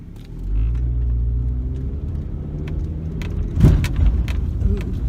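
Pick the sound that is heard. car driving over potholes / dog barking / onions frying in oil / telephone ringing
car driving over potholes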